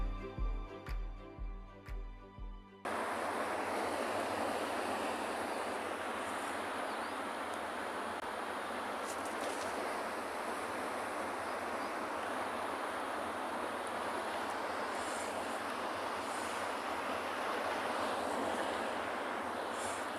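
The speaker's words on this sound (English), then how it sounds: "mesmerizing sight to watch those waves crash" Ocean waves crash on a penguin beach, a steady broad roar of surf and churning foam heard alone after a few brief tonal knocks at the start.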